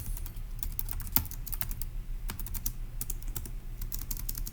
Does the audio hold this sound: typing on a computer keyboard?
yes